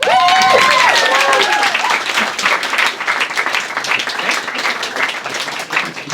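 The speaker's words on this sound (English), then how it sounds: "We're gonna clap Erika out of the room." A live audience at a talk applauds as someone leaves the room, with a few whoops and cheers over the opening clapping, then steady loud claps carrying on throughout.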